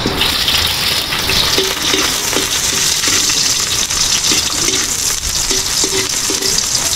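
Chopped onion sizzling in hot oil in a frying pan, a steady loud hiss throughout with faint clinks of utensil against the pan.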